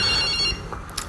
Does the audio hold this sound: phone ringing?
yes